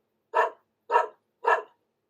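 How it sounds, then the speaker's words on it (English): A dog barks three times, evenly spaced about half a second apart, close and clear with silence between each bark. "I think Filbert is barking to say hello."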